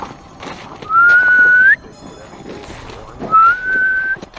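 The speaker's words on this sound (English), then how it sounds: "I'm gonna do a whistle." Two rising whistled notes from a person, each held for under a second with a short gap between, loud and close over quiet background.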